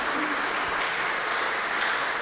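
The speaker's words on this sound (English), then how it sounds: "That deserves a round of applause in my mind." Brief audience applause at a presentation on the restoration of a historic 1916 courthouse, a continuous wash of clapping held at an even level throughout.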